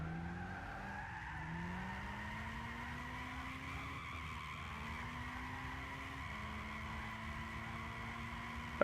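Car drifting sideways in Gran Turismo 6, a budget drift car: continuous engine drone with rising and falling revs and a steady tire skid squeal running through the whole stretch, loud and alone.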